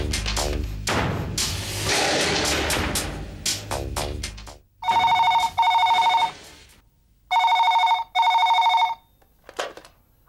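A telephone rings in two paired bursts of bright, steady electronic tones in a Telugu TV serial scene, preceded by clattering handling noises and a few knocks, with no talk.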